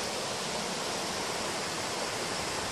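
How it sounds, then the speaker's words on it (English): Water rushes steadily over rocks in a stream at Whitewater State Park, Minnesota, swollen after several days of rain, a loud, continuous broadband roar close by with no talking. "This kind of gives you a good idea about the water going over here."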